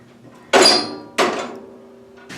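A metal poker jabs and shifts logs in a wood fire, giving two loud clunking knocks about half a second apart and then a third, each trailing into a rattling decay.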